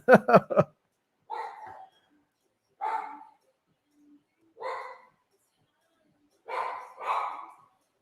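A small dog indoors barks in a quick burst of three sharp barks, then lets out single or double gruffer woofs spaced a second or two apart, close to the microphone with silence between.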